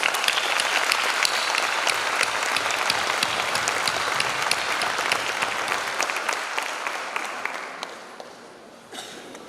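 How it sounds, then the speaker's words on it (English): A large crowd claps loudly and steadily for several seconds at a school pre-kindergarten event, then the applause thins out and fades toward the end. "they deserve a big round of applause"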